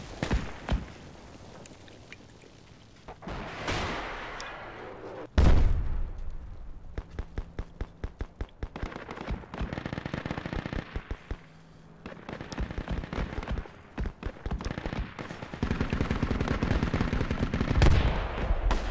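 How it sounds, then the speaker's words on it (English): Rocket blasts and dense automatic gunfire ring out in the video game Project Reality, with a sharp explosion followed by long rattling machine-gun bursts and scattered shots, loud and close, continuing in waves across the battlefield. "They're trying to hit us with rockets."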